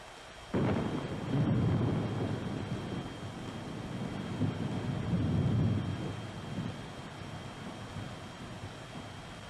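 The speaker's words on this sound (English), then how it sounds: "clear for shockwave arrival" In a 1960 film, a nuclear blast shockwave hits an aircraft: a sudden loud rumbling blast that surges, swells again midway, then slowly fades into a low roar.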